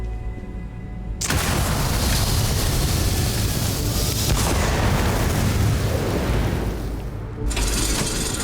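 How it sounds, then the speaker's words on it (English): Explosions in the video game Starfield erupt as a sudden loud booming roar that cuts in abruptly and sustains a dense, heavy rumble for several seconds before cutting off, then bursting again near the end. "Explosions, baby."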